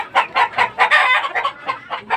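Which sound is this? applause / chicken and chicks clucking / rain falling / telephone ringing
chicken and chicks clucking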